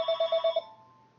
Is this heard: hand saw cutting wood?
no